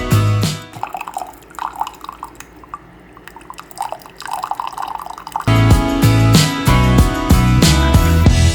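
A coffee maker runs clean water through after a vinegar cleaning. Loud, close dripping and trickling turns midway into a fuller, heavier gurgling flow.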